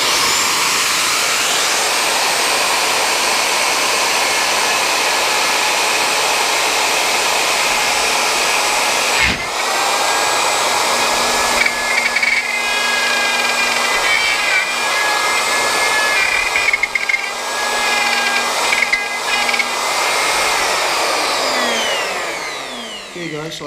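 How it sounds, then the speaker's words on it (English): A router roars loudly and continuously as it cuts through the wood of a Stratocaster guitar body, its pitch wavering slightly as the bit digs in and then winding down at the end. "So I'm going to try to cut counterclockwise so that my router doesn't kick out on me."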